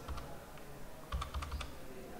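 Keys clatter on a computer keyboard as a calculation is typed in, a quick burst of clicks near the start, then a denser flurry of taps after a pause, close and fairly quiet with no talking.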